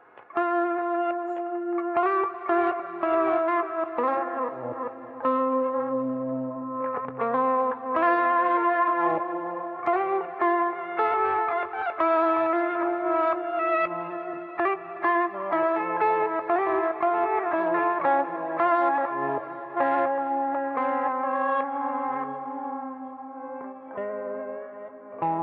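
An electric guitar riff played through a glitchy lo-fi ambient effect, with steady melodic notes washed in echo, chorus and reverb, plus stuttering artifacts, loud and continuous for the whole passage without speech.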